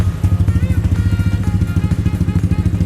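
Honda PCX 160 scooter with a modified engine, idling close by with a loud, pulsing low-pitched throb and steady rapid beats, a faint voice briefly audible under it.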